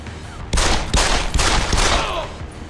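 Rapid bursts of gunfire in the video game Deus Ex: Human Revolution, loud and close, several volleys cracking in quick succession before fading.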